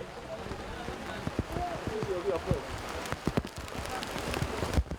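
Heavy rain pours outdoors onto people sitting unsheltered on bare earth, a dense steady patter broken by sharper drops, with faint voices murmuring underneath.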